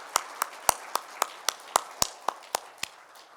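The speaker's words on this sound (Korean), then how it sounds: "하나님께 다시 한번 영광의 박수 올려드릴까요?" Slow, evenly spaced claps in a Korean church worship service, about a dozen sharp single claps in a steady rhythm, fairly close and clear with no talk.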